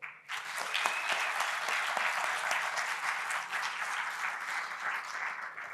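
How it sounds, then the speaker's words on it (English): Audience applause welcomes panelists at a panel discussion, a dense, steady wash of many hands clapping that holds at an even level throughout. "please help me welcome them with your warmest and boldest applause"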